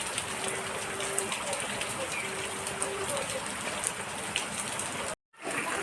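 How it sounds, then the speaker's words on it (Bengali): Steady, continuous rain gives an even, dense hiss that lasts almost throughout and cuts out briefly near the end, with faint tones from something else underneath. "কন্টিনিউ এভাবে বৃষ্টি হতে থাকলে পরে কত পরিস্থিতি খারাপের দিকে যায়"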